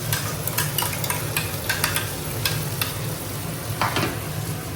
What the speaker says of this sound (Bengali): গৰম তেল দিছোঁ দুটা ৰঙা জলকীয়া আৰু আদা নহৰুৰ পেষ্ট